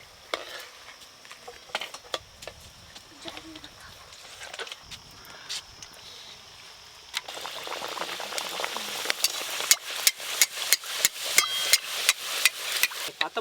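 Wheat-flour luchi puffing as they deep fry in hot oil in a village kitchen, starting with quiet bubbling and light clinks, then a loud, busy crackling boil with rapid sharp pops and ladle clatter building toward the end.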